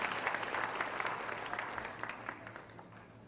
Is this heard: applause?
yes